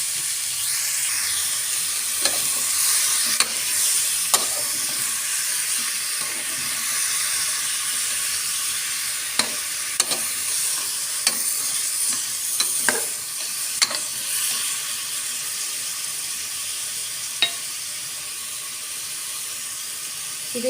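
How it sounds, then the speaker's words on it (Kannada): Minced farm chicken keema fries in oil in a pan, a steady close sizzle and hiss broken by scattered scraping and clinking as it is stirred, with no talking. "ಇದು ಎಣ್ಣೆ ಎಲ್ಲ ಎಣ್ಣೆ ಬಿಟ್ಕೊಳ್ಳೋ ಥರ ಫ್ರೈ ಆಯ್ತಾ ಇರಲಿ."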